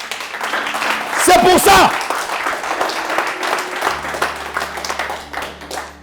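A church congregation breaks into applause and cheering amid music, with a preacher's voice speaking over the clapping.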